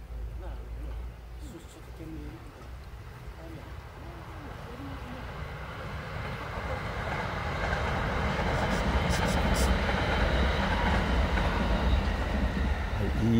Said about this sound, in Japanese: 電車の音してます